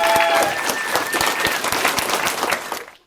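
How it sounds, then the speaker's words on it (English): An audience at a poetry slam bursts into dense, steady applause, with many hands clapping close together. The clapping fades out at the end. "Let's have a round of applause for everyone who performed in round one."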